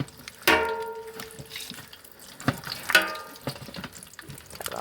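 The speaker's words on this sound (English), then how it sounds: "I've just been coming in here and stirring it like this" Leaf lard being stirred in a pot as it renders, with soft scraping and wet stirring noises, a couple of sharper clanks of utensil against the pot, and a faint sizzle underneath.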